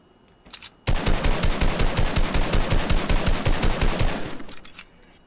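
Rapid automatic gunfire in Fortnite while shooting something down, a loud, steady stream of close shots lasting several seconds after a few short opening bursts, then tapering off.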